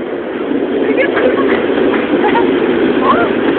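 Train from Chałupki to Rybnik rolling into Wodzisław Śląski station: a steady, fairly loud rumble of wheels and carriages with faint squeals, while people talk over it throughout.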